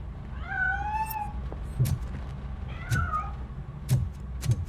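A cat meows twice in drawn-out cries in the video game RoboCop: Rogue City, followed by a few sharp knocking thuds at intervals under a low steady hum.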